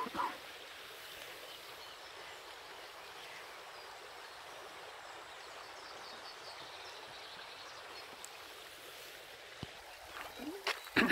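A river flowing below Eltz Castle in Germany, a soft continuous rushing of water heard from a distance, steady and faint, with a few small knocks and handling noises near the end.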